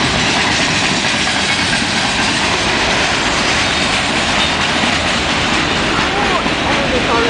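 A train rumbles by close and loud in Bald Knob, Arkansas, a steady roar of wheels and engine noise filling the whole stretch without pause.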